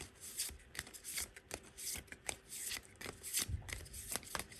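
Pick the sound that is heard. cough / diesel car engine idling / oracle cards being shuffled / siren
oracle cards being shuffled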